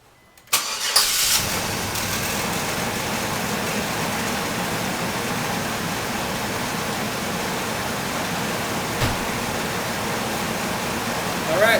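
A Chevy Astro van, fresh from a water pump replacement, cranks and fires, then settles into a steady, loud idle with a continuous engine roar, heard close and without talk.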